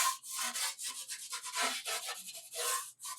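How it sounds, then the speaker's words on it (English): A tool scrapes leftover pizza bits off a hot pizza stone in a run of short, rough, rasping strokes, close by and fairly quiet, with brief gaps between the strokes. "I'm going to actually use this to kind of scrape some of the pizza, I guess, remnants from the last pizzas I made."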